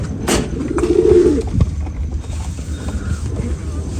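A pigeon coos close by in a soft, low rolling call, followed by faint rustling and quiet background noise.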